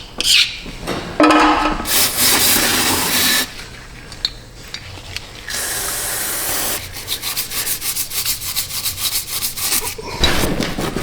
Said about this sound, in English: Okay, we'll hit that with the scraper.